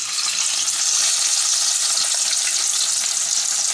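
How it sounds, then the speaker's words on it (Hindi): Marinated fish deep fries in oil over a slow flame, a loud, dense and steady sizzle that continues without a break. "अब इसको हम फ्राई करेंगे। हमने इसमें ऑयल डाल दिया है"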